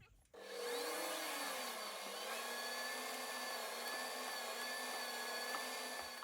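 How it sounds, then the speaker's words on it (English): A 13/64 drill boring the spark plug tap hole in a cast hit-and-miss engine cylinder head, a steady loud machine whine with a high ringing tone holding from start to finish after a brief quiet lead-in. "So now I'm going to go in with a 13/64 drill, which is the tap drill for the quarter 32,"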